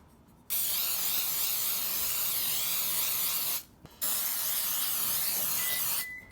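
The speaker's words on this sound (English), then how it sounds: "So now we are going to spray our pans." Oil spray hisses onto cake pans for a vegan vanilla layer cake in two long, close bursts separated by a short pause.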